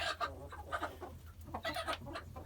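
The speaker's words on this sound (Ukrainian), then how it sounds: "Ось така наша ряба курочка Амрокс." A speckled Amrox hen clucks softly up close in a farm setting, a quick run of short, rhythmic clucks and murmurs, faint and intimate.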